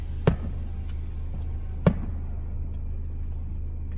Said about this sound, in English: Now let's go find those fireworks that we are hearing.